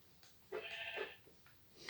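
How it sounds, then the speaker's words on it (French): A gray Minecraft sheep gives a clear, fairly quiet bleat of about half a second, with a couple of fainter bleats around it and no talk. "Et regardez, un troisième mouton."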